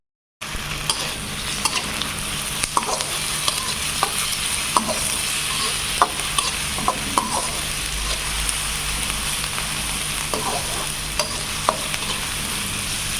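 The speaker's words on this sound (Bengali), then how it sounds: "পেঁয়াজ ভাজা হয়ে গেছে" Onions sizzle steadily in hot oil in a pan while a spoon stirs them, scraping and clicking at irregular intervals. The frying holds an even, close hiss throughout, with no talking.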